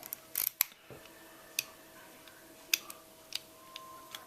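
Core being removed from an IC Series mortise deadbolt lock with a key, heard as small, sparse metallic clicks and ticks of the key and lock parts against faint background hiss.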